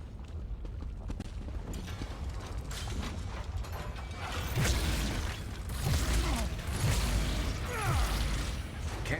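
A ratcheting, clicking in-game mechanism from Elder Scrolls Online runs continuously in rapid, gear-like ticks and creaks. It grows louder and busier in the second half, with no talking over it.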